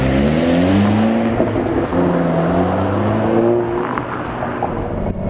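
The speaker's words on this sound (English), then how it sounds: "Let's go driving." Honda Civic Si with the L15 turbo engine driving, a steady loud engine drone with shifting harmonic pitch as it revs up and settles, continuous throughout with no talk.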